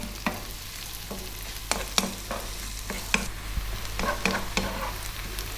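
Onions cook in a pan for a fish curry, giving a steady low sizzle broken by several sharp scraping and clinking stirs spread through the stretch; no one speaks.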